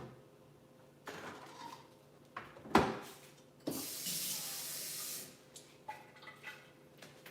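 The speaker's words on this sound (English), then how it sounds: "I'm going to add around ½ cup water to this." About half a cup of water poured into a pan during Thanksgiving prep cooking, a brief rushing splash and trickle amid kitchen clatter, with no talking.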